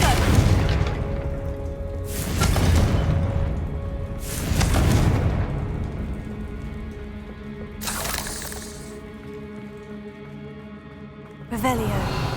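Confringo spell blasts in a video game boom out as four deep explosions spaced a few seconds apart, each swelling and fading, with the last one sharper and cut off at the end.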